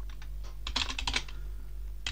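Quick keystrokes on a computer keyboard come in short bursts of clicks over a low steady hum. The typing is close but fairly quiet, with no talking.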